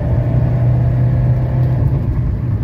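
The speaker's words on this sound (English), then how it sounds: "this is a fantastic engine" A 1985 Mercedes 300CD with its 617 diesel engine runs during a test drive, giving a steady, loud low rumble with a constant drone from inside the moving car.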